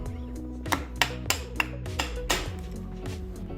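Chisel squaring up the edges of holes cut in wood for an upcycled railroad side table, giving a series of sharp close taps and knocks, about six of them, irregularly spaced over a low steady background hum.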